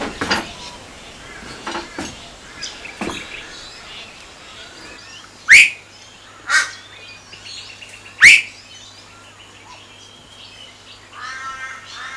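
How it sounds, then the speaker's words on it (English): Birds call across Lake Monduran in Queensland, Australia, with scattered sharp chirps and a few loud, close calls standing out over a quiet outdoor background. "Watching the flocks of birds fly over."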